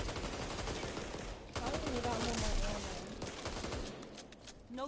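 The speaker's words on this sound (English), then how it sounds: "I hate this shotgun." Gunfire from the Back 4 Blood video game, with a shotgun among the weapons, comes as dense bursts of shots in quick succession, fairly quiet in the mix with a voice speaking over part of it.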